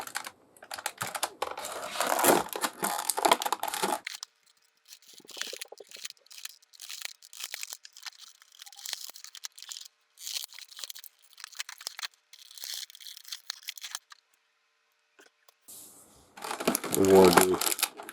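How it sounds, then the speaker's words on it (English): An X-Acto knife slices and tears through the plastic and cardboard packaging around a NECA Warduke figure, making bursts of close scraping, crinkling and ripping separated by short pauses, loudest at the start and near the end. "let me get my trusty X-Acto knife to free up"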